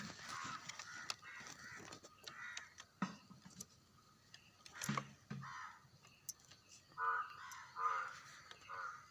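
Crows caw repeatedly around a village on a cold, foggy morning, the calls coming in scattered bursts at moderate distance over quiet outdoor background.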